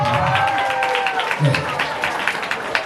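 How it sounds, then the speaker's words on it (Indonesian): A crowd at a school Isra Mi'raj commemoration in Indonesia claps in a rapid, uneven patter, mixed with voices and cheering that ride over and through the applause. "Tepuk tangan untuk ini."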